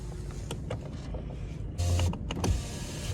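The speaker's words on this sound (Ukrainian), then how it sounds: "Склопідіймач працює." The power window motor of a 2011 Mercedes-Benz B-Class whirs steadily for a few seconds, close and fairly quiet, with small clicks at the start and a brief stop near the end.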